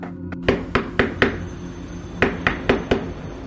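Knuckles rap on a glass kiosk door in two quick bursts of four sharp knocks each, separated by a short pause, close and distinct against a quiet room.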